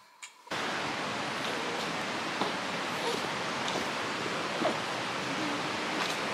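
A steady, dense rush of falling water fills the scene at close range from a waterfall, starting abruptly and holding an even, continuous roar throughout.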